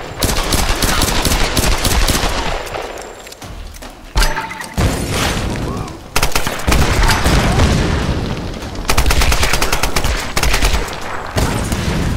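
Gunfire and heavy booms in the video game Tomb Raider Definitive Edition, rapid automatic bursts and loud blasts repeating in close, dense waves with short gaps between them, no speech.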